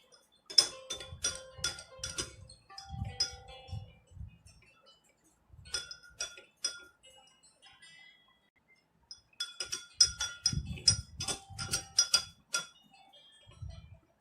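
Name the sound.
stirring Rooh Afza drink with a spoon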